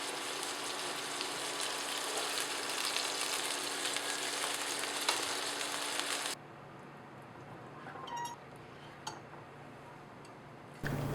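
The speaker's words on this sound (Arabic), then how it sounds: "يقلى لمدة 5 دقائق ثم يقلب" Food sizzles steadily in a frying pan, a dense broadband crackle that runs loud for about six seconds, then drops to a quieter simmer with a few faint clicks and taps.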